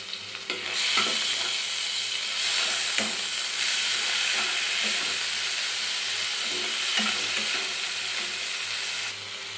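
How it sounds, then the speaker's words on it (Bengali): Prawns fry in oil with turmeric in a loud, continuous sizzle close by, with occasional stirring knocks and no voices. "এবার আমি চিংড়ি মাছটাকে খুব সুন্দর করে ভেজে নেব।"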